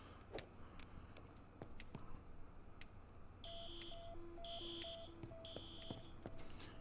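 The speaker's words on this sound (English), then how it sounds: "And now the alarm's going off." In the video game Happy Humble's Burger Farm, an electronic alarm beeps in a steady repeating pattern of paired high and lower tones, loud and continuous over clicks and sizzling game noise, signalling a grill fire.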